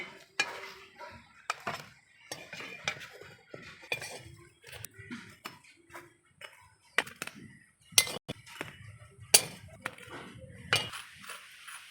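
Oil-free fried eggplant slices lifted from a pan: scattered metallic clinks and scrapes of a utensil against the pan, irregular and close, with soft gaps between.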